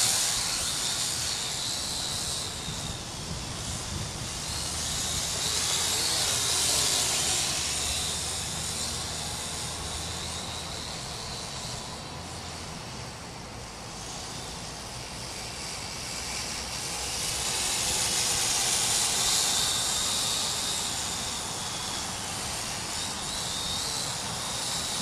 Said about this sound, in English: this particular quad, some people call it a drone, is a Syma X8C